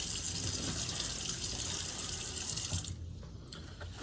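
Tap water runs steadily into a sink as chicken is rinsed while making pita pan pizza, a constant close hiss of flowing water that cuts off near the end, leaving a few faint drips and clinks.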